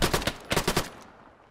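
Video game gunfire in an alternate-history coup battle: rapid bursts of loud, close automatic shots, several quick cracks in a row that stop and leave a fading tail.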